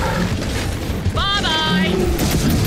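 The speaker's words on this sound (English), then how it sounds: "Rockets outgoing." Rockets launching and exploding in Gears of War 4: loud, rumbling booms and blasts over a continuous roar, with a voice speaking over the explosions and a brief whining, wavering tone mid-way.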